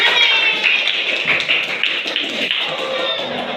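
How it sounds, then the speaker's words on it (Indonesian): A classroom of schoolchildren claps hands together, a dense, fast patter of many small claps close by, continuous for several seconds with slight swells. "Oke, tepuk tangan"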